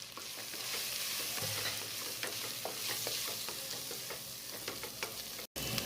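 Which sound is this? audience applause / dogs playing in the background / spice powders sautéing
spice powders sautéing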